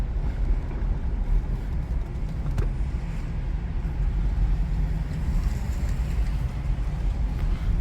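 A Buick LeSabre with its 3800 engine wafts along the road at gentle speed. A low, steady rumble of road and wind noise runs unbroken, with no talk over it.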